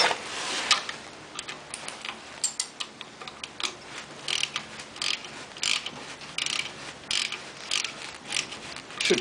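Ratchet with a deep socket being worked on a Ferguson TEF20 grey tractor while a draw bar and dynamo are fitted, giving a steady series of quick, close metallic clicks and ticks with no talk.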